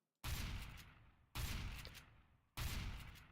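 Three sustained bursts of automatic gunfire in a spray tutorial for a tactical shooter video game, each loud, abrupt burst lasting about a second and evenly spaced, with no talk over them.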